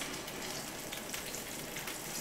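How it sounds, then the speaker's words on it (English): Potato pavé sizzles and crackles steadily in a frying pan, a soft, even hiss of fat spitting with no break, fairly faint and heard alone. "I can hear the sizzles."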